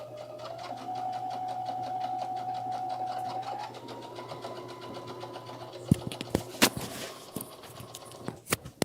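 A home sewing machine runs in a fast, steady whir while stitching fabric for lounge pants, then slows into short bursts with clicks and knocks as the fabric is turned.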